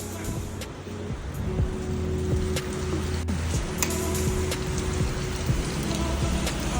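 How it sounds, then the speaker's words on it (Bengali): Heavy rain falls steadily outside on a seaside morning at Mandarmani, a dense continuous wash of drops and splashes holding an even, moderately loud level throughout. "সকাল থেকে মারাত্মক বৃষ্টি হচ্ছে"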